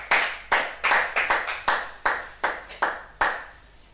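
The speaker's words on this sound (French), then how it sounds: "Nous allons acclamer le Seigneur pour cela." Church congregation clapping to praise the Lord: a few pairs of hands close by, giving about a dozen sharp, uneven claps in a loose rhythm with no voices.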